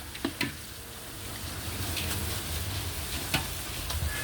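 Pieces of jackfruit deep-fry in hot oil with a steady low bubbling sizzle, broken by a few sharp clicks and taps of a utensil against the pan, with no talk.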